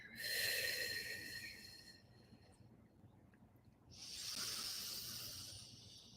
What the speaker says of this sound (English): So let's take 3 deep breaths together.